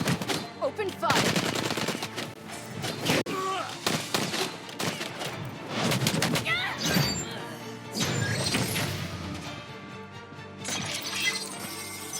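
Rapid gunfire and crashing impacts from combat in the mobile game Marvel Future Revolution, loud and dense, with bursts repeating over layered music and effects.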